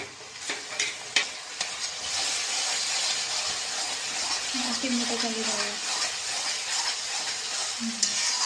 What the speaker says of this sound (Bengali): কষা চলছে, মাংসের মশলাটা কষা চলছে।